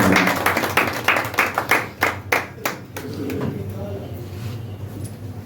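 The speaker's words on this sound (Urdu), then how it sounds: "اب آج کے محفل کے مہمان خصوصی پروفیسر ڈاکٹر خالد محمود سنجرانی صاحب، آپ سب کی تالیوں میں" Audience applause for the chief guest at a book launch, clear rhythmic clapping that thins into a few scattered claps and fades to room noise with a voice speaking over it.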